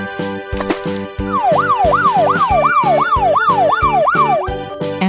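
A toy police car siren wails in a fast repeating up-and-down sweep, loud and close, over a rhythmic electronic pulse, with a few short tones before the siren starts.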